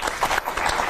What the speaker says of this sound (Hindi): सुधांक के लिए एक बार जोरदार तालियां हो जाए।